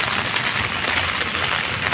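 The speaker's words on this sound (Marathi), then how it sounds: "पाऊस खूप लागतोय" Steady, dense hiss of heavy rain pouring down continuously, loud and close, with no voices.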